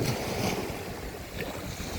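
Sea waves washing onto a beach, heard as a steady broadband wash of surf with wind buffeting the microphone, continuous and fairly close throughout, with no voices.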